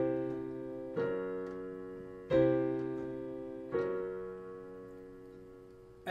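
Piano-style chords stepping downward by tritone root motion, four separate chords struck at a slow even pace, each ringing out and fading, heard alone without any voice.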